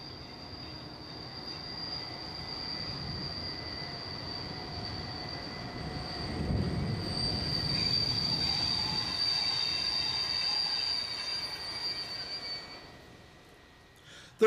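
A Belgian mainline diesel locomotive in yellow livery with a blue bodyside stripe passes with its train, a rumble building to a peak midway, high-pitched wheel squeal above it, then fading away.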